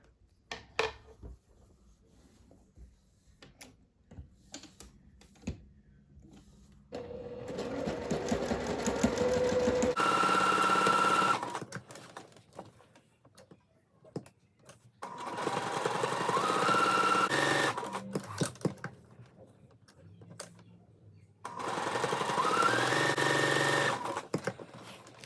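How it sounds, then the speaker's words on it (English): A sewing machine stitches casing lines on a dress top. A short run is followed by three longer, steady whirring bursts, each separated by quiet pauses. "So now I'll sew along all 3 of those lines."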